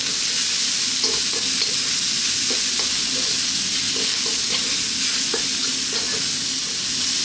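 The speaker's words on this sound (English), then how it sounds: "2 to 3 minutes, high heat, keep it moving." Broccoli and spices stir-fry in a wok over high heat, with a loud, continuous sizzle and repeated scraping stirs throughout, no voices.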